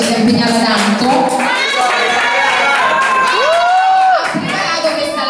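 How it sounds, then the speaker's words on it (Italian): Party guests at a baby gender reveal clap and cheer close by, with excited voices, whoops and children's shouts mixed into the lively crowd noise. "Quindi qui la mia amica Nicole, un applauso per favore che ci si è impegnata tanto."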